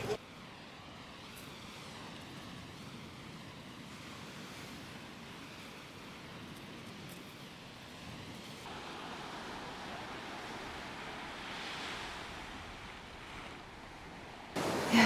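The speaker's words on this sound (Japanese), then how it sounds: "波がちょっと荒くてかっこいいし" Rough sea waves wash continuously against a rocky shore beside a pair of wedded rocks at Itoshima, with steady sea wind blowing across the microphone and no voices.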